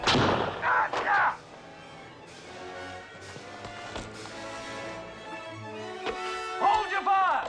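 Period-drama gunfire in The Scarecrow of Romney Marsh: scattered sharp shots ring out amid shouting voices and commotion, with a few loud reports standing out from the surrounding noise.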